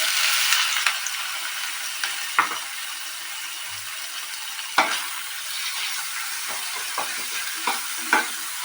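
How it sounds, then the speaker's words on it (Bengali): Shrimp fry in hot oil in a steady crackling sizzle, with several sharp clicks and clatters of utensils against the pan scattered through it and no talking. "তেলটা গরম হয়ে গেছে বন্ধুরা, এরপর আমি চিংড়ি মাছগুলো দিয়ে দেবো।"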